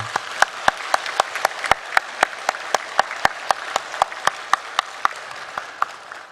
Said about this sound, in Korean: 우리 임마누엘 찬양대에게 우리 감사의 박수 한번 하겠습니다.